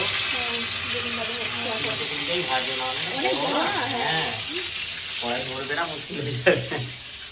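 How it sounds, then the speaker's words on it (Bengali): Eggplant slices fry in hot oil with a steady, loud sizzle that runs the whole time, while someone talks over it close by. "বেগুন ভাজা বসে গেল"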